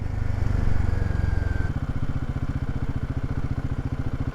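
Himalayan 450 motorcycle single-cylinder engine lugging at low revs in third gear with the clutch released, a loud steady low thumping pulse that settles into a rapid, evenly repeating chug with a faint knock.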